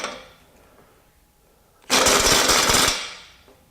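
A Milwaukee or Ridgid cordless sub-compact impact wrench driving bolts, one loud rattling hammering burst of about a second after a quiet lead-in, fading out.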